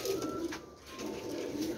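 A pigeon coos nearby in two soft, throaty rolling phrases separated by a brief pause, heard alone without talk.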